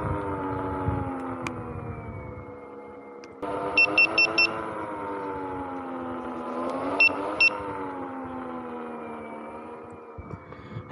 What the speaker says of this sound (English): we're getting beeps if we try to pull too much on this little beast